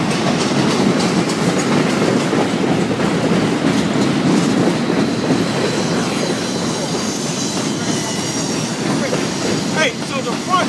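A CSX Q400 freight train rolls past close by, loud and continuous, with rhythmic clickety-clack from its wheels and occasional wheel squeal, while people talk nearby.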